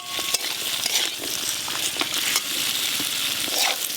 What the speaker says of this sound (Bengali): খুব ভালো করে আলুর মতো ভাজা হয়ে গেছে